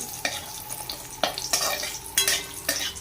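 Lentil dumplings (bori) fry in a pan of oil just used for frying fish, giving a steady close sizzle broken by several sharp spattering bursts and stirring scrapes.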